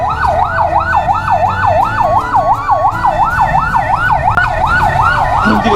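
An ambulance siren wails loud and close in a steady rising-and-falling cycle on a road at a bridge near Kishoreganj, Bangladesh, with engine and traffic rumble underneath throughout.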